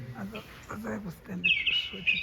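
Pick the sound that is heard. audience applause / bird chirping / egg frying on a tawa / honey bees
bird chirping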